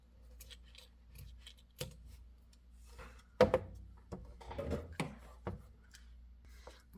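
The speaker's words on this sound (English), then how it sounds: "Trim the excess." Scissors trimming excess ribbon near a Dollar Tree bow make several close, crisp snips and clicks, with light handling noise in a quiet room.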